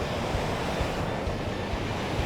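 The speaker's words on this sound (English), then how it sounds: "This ocean, when it's all choppy like this, it makes me want to go swim in it" Choppy ocean waves wash and churn continuously close by, a steady broadband surf roar mixed with wind buffeting the microphone, with no voices.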